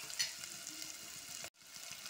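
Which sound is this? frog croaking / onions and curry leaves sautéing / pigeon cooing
onions and curry leaves sautéing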